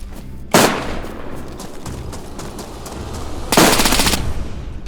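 Automatic gunfire in the DayZ video game kills the player: two loud, sudden bursts of rapid shots, the second longer, over a constant noisy game ambience.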